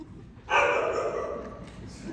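An actor on stage in a Mary Poppins theatre production imitates a dog with one long, drawn-out bark or howl, fairly close and loud, fading slightly as it goes on.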